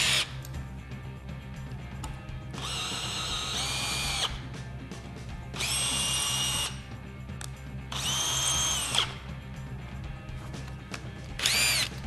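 A power drill drives a GRK Caliburn pan head screw into wood in four separate whirring bursts of a second or two each, close and moderately loud, with quiet handling noise between them.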